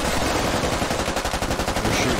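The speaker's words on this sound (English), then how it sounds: "We're shooting up through the floor." Rapid bursts of automatic gunfire from soldiers shooting up through a floor in the military shooter game Squad, loud and close, with dense overlapping shots and no talking.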